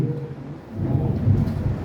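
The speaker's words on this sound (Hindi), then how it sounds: "बादल भी गरजने लगा है" Thunder rumbles low and deep during a storm, swelling from a quieter start into a sustained, rolling growl with rain-like hiss faintly mixed in and no voices.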